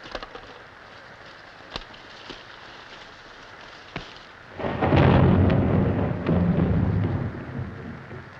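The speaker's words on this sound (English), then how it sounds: "It's only a thunderstorm like we get back on Earth." A thunderstorm on Venus builds to a loud rolling thunder rumble, with sharp cracks before it and heavy rain-like noise as it swells and slowly fades.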